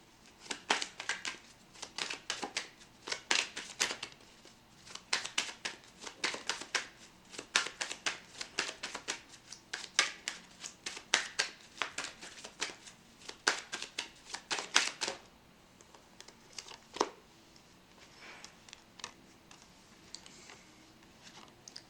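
Tarot cards being shuffled by hand: quick, crisp riffling bursts repeating in close, irregular clusters, quieter and sparser toward the end.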